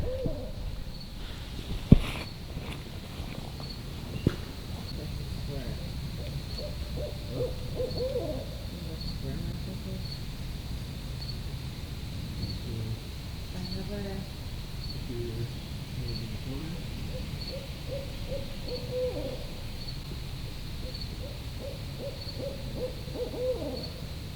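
Owls hoot repeatedly in the distance at night over a constant high chirr of crickets. A couple of sharp knocks break in early.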